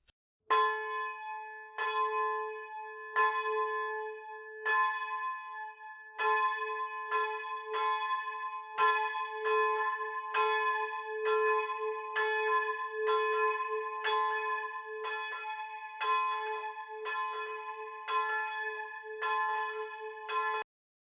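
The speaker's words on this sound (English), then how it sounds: "we start by turning the bells upside down. This is done by swinging them to and fro a little at a time" Church bells in the tower of St Michael's, Macclesfield, are swung up, sounding repeated ringing strikes in an uneven rhythm that gradually gathers pace, clear and resonant with no voices.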